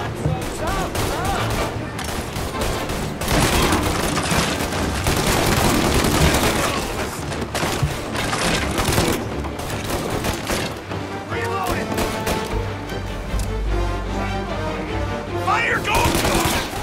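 Gunfire in the video game Mafia: Definitive Edition, loud sustained bursts of shots and rapid automatic fire over a long stretch, with game music and voices mixed in.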